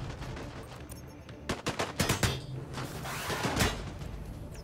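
Units in Disintegration open fire in quick clustered bursts of gunshots, loud and sharp in the middle of the stretch, over a low ambient game hum.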